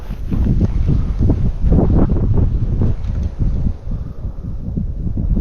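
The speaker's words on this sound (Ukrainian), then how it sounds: "по прогнозу не мало бути такого вітру" Strong wind blows across an open fishing spot by cold water, loud rumbling gusts buffeting the microphone. It swells and drops off unevenly and never stops, with no talking.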